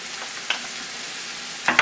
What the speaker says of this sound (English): Now you just want to saute these up until the onions get soft.